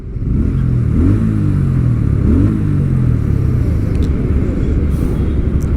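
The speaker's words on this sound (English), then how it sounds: "I am at a standstill, listen to the exhaust." A Bajaj Pulsar P150 motorcycle idles at a standstill with a low, throbbing exhaust rumble, close and continuous, with a couple of slight blips in revs.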